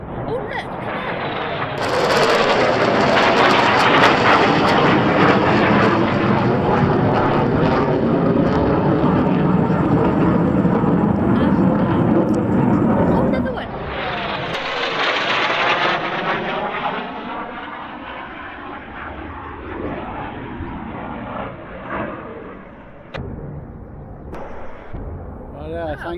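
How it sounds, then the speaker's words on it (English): A low, loud airplane passing overhead above a Lake District valley between Coniston and Great Langdale, a roaring jet swell that builds, holds for several seconds, then fades with a shifting whoosh, and people talk over it. "Hang on a minute, we've got a plane coming over now."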